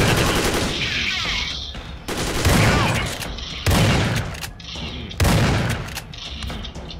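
Enemies in Dead Effect 2 unleash loud automatic gunfire in repeated heavy bursts, each starting with a sharp blast and then trailing off, close and aggressive.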